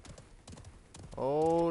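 Horse hooves clip-clop in the Realm Royale battle royale game, followed by a loud, sustained neigh that rises over them near the end, with voices talking over the hoofbeats.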